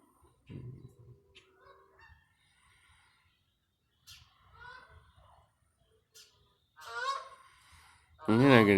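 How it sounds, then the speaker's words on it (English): Geese honk in a few loud, nasal calls, scattered and moderately near, with bursts at intervals and a louder cluster of honks at the end, alone without talk. "You're not gonna get those geese."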